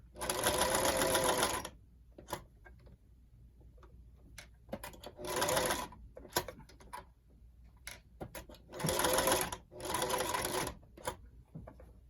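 A rickety, janky sewing machine stitches a rolled hem on cloth in several short bursts of rapid, close mechanical chatter, separated by quieter pauses filled with ticks and handling clicks.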